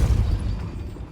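Depulso force-push spell cast in the Hogwarts Legacy game, a single deep, heavy blast with a booming low-end burst that quickly decays into rumble.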